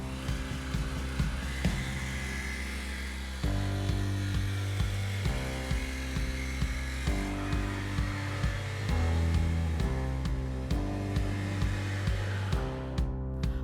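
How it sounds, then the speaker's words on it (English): A jigsaw cuts through the wall of a bathtub for a walk-through insert, giving a loud, steady motor buzz with a rattling blade that runs almost continuously and varies slightly in pitch as the cut progresses. "Using the jigsaw, begin cutting the tub."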